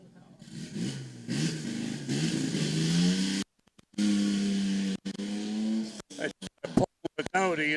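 A Hardwick Dodge Special with a big 4.1-litre engine pulls away at a hill climb, its exhaust note rising and changing pitch through the gears, loud and near, with brief dropouts and talk over it.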